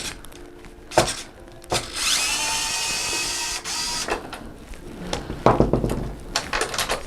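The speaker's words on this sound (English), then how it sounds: "I'm gonna take our handy dandy screwdriver, get it on in there" A screwdriver works a screw loose inside a PS5 console, giving a sustained scraping, grinding whir that runs for a couple of seconds between sharper clicks and knocks of handling, close and fairly loud with no talk.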